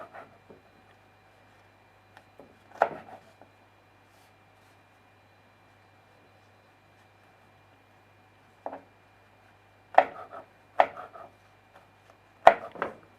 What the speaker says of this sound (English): And then basically you just cut down in strips, so like that.